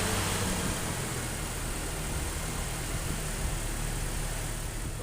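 Toyota Fortuner engine idling steadily after an oil change, a continuous low rumble with even hum throughout, fairly loud and close, with no talking.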